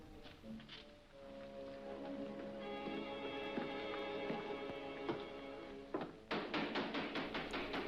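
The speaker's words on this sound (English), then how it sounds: "Who knocks at the temple door in the proper manner?" Knocking on a temple door in a 1943 French film about Freemasons: a rapid series of sharp knocks comes near the end, following a stretch of sustained, droning tones.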